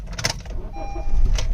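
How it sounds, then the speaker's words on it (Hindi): A Honda City with a CNG kit cranks and fires up on petrol, a short whirring start followed by the engine catching into a low idle rumble, heard close from inside the car. "अब इसको गाड़ी को करते स्टार्ट।"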